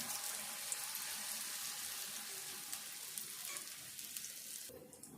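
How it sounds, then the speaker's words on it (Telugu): Onion, tomato, coriander and curry leaves fry in a pan with a steady, close, dense sizzle that runs throughout and cuts off abruptly near the end. "ఇట్లా కాలినప్పుడే ఉల్లిపాయ, టమాటో, ఈ కొత్తిమీర, కరివేపాకు అన్నీ కూడా మంచిగా కాలుతాయి"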